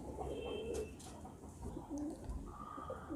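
Pigeons coo softly in a loft, a bred son of a prized breeding pigeon among others, with faint low coos and a few higher calls over a noisy background.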